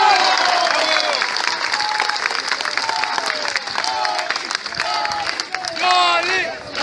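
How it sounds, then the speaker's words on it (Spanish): Loud, sustained applause from a crowd at a union rally for a candidate for Section 44 of the STPRM oil workers' union, with scattered shouts and voices rising over the clapping throughout. "Compañera Yolanda Morales Izquierdo, fuerte el aplauso para ella."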